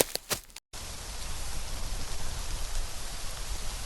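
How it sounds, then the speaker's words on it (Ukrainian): After a few brief knocks and a short gap, steady rain patters on a roof, a constant hissing shower close by. "Це дощик стучить по даху."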